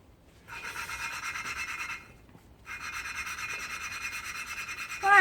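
Valves being lapped in by hand on an engine head: two steady bursts of rasping, gritty rubbing, each lasting over a second with a short pause between, close and fairly loud, ending in a brief sharp squeak.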